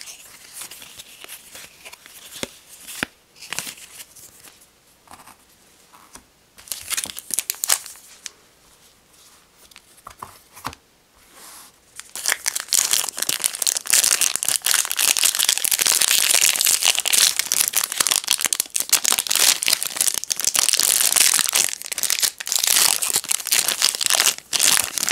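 Yu-Gi-Oh card packs crinkle and crumple as they are handled, quieter scattered rustles at first, then steady loud continuous crinkling close to the mic.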